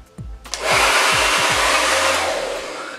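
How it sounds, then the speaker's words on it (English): An Infinity Pro hair dryer switches on with a few low thumps and then blows a loud, steady roaring whoosh of air while drying hair, heard up close with no talking. "This is the Infinity Pro blow dry."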